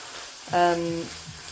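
Lean beef mince, with its excess water drained off, sizzles in a pan: a soft close frying crackle runs throughout, with a short burst of talking over it midway.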